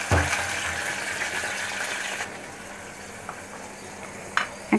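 Water poured into a pan of spices frying with fried onion, a loud hissing sizzle that gradually quiets to a softer bubbling, with a few small clinks near the end.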